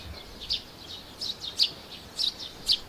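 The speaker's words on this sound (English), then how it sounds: "There are other species to see too," Tree sparrows chirp at RSPB Bempton Cliffs in short, high, repeated tweets, a few at a time at irregular intervals, moderately near over a quiet outdoor background with no voices.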